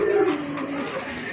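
Brief, low, throaty cooing from a vigorous male pigeon, close by, with faint background noise.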